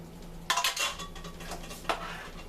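A spoon scrapes and clanks against a pan while egg noodles are mixed into a cheesy tuna and shrimp casserole sauce, a few close metallic knocks and sticky stirring sounds with quiet pauses between them.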